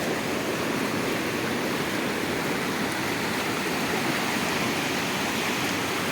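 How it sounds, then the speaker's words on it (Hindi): A deep mountain river fed by snowmelt rushes in a steady, dense roar that stays close and even throughout, with no voices or breaks. "ये पूरा दरिया आप देख सकते हैं माशाल्लाह"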